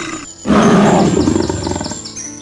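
A lion roars loudly and up close, with one long, rough, throaty roar that swells in after a brief pause and trails off slowly, standing alone as a sound effect in a narrated children's story.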